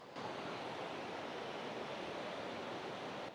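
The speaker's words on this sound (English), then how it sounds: "a little sound of the river." A river flows outdoors with a steady, unbroken rush of water. The sound is even and moderately loud, with no voices.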